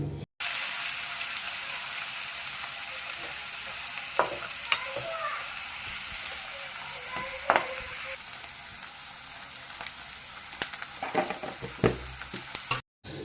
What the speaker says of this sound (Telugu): ఉల్లిపాయలు వేగిన తర్వాత వాటితో పాటు పచ్చిమిర్చి కూడా వేసుకోవాలి ఇవి రెండు బాగా వేగేంత వరకు ఉంచాలి